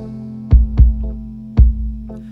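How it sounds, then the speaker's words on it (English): Punchy kick drum in a pop song, three deep thumps in an uneven pattern over a steady low droning tone, with no other instruments or voices. "it's got a kick drum that sounds like this"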